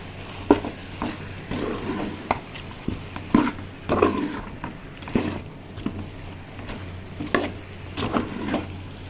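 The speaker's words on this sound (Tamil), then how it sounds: "இதை நல்லா போட்டு நம்ம கிண்டி விட்டுக்கலாம்." Chicken curry being stirred in a pan with homemade chili powder, a spoon scraping and clattering in repeated strokes over a steady close sizzle of frying.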